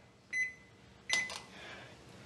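Two sharp electronic beeps from a microwave oven keypad, spaced under a second apart, the second followed by a short hiss of noise, heard close and clear while setting a timer and starting.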